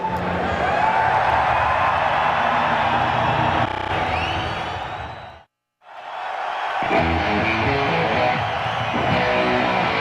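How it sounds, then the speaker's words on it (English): A roaring crowd at a rock concert, a dense loud wash of cheering and whoops that cuts to a brief silence, then swells back in as the band begins playing underneath. "house lights out and the roar of the crowd"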